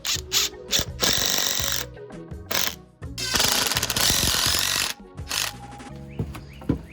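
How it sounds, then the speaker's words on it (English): A power driver sinks coated exterior screws into wood at the corner of a basement bulkhead door, in loud, close bursts of whirring and ratcheting, several short pulses followed by a long sustained drive and a final burst. "Put a couple more screws in the corner here, attach them to these pieces."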